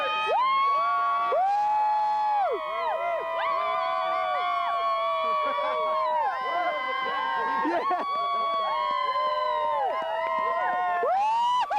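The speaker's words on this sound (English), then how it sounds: "Let's start cheering." A close, loud crowd at a shovel race, cheering and yelling in sustained, wavering voices that carry on throughout.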